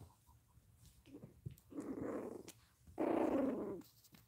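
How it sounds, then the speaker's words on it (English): Low, rumbling growls from a 10-week-old Chihuahua puppy come in two drawn-out bursts with soft snuffles between, fairly quiet and close. "Can you hear that little growl coming out of her?"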